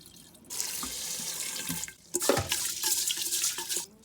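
Tap water running into a pot to rinse rice for vegetable congee, a steady close splashing gush that starts abruptly, breaks off briefly, then resumes with sloshing and swirling before stopping.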